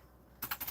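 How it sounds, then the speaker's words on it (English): Keys clatter on a computer keyboard in a quick burst of a few soft, close taps after a moment of near silence. "I might be even typing some more."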